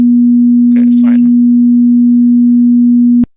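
A pure sine wave tone holds steady and loud for about three seconds, then cuts off abruptly with a click; a brief spoken word or two sounds underneath near the start.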